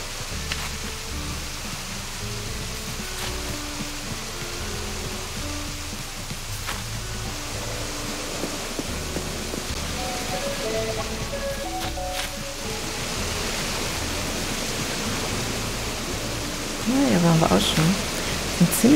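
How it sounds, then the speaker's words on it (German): Small waterfalls and little streams on a cottagecore island in Animal Crossing make a steady, soft rushing of water that runs throughout, with gentle music drifting over it. "Mit den kleinen Wasserfällen und den kleinen Bächlein."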